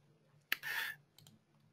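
A single computer mouse click followed by a brief burst of rustling hiss, then a couple of faint softer ticks, heard alone and close during work in an AWS Lambda console.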